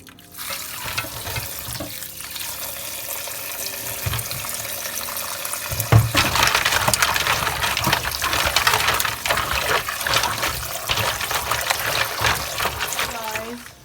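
Tap water runs while seafood is washed with lemon juice and vinegar, a rushing stream growing louder midway with scattered clinks and splashes, close by beneath occasional talk.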